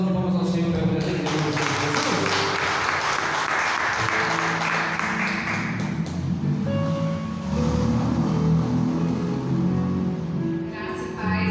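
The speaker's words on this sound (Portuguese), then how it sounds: "Vamos de palmas ao Senhor para a vida." A church congregation claps together in a broad, dense wash of hand claps that swells over several seconds, with sustained voices and instrumental tones sounding beneath and a brief tail of clapping near the end.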